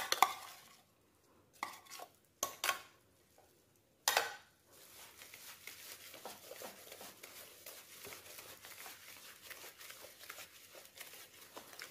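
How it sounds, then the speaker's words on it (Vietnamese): Garlic stirred into a sweet Vietnamese pickle mixture of sugar and taro stems: a few loud clattering knocks of a utensil against the container, then a sustained close scraping and wet stirring, with no speech. "Mình trộn đều lên."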